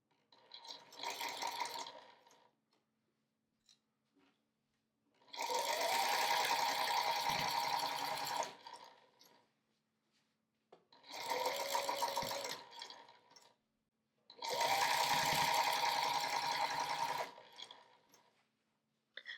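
Sewing machine stitching a heavy minky blanket, four separate runs of steady motor whir, two short and two long, with quiet pauses between, near and moderately loud with no talking.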